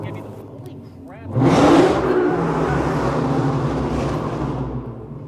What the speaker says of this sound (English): Get your car out of here. Put your muffler back on. This is a Toyota Camry.